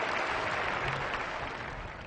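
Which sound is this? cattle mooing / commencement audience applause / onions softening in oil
commencement audience applause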